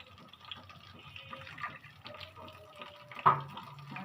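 Water trickles into a cooking pan, gentle and close, with faint running and dripping over a quiet kitchen background and one brief louder splash near the end.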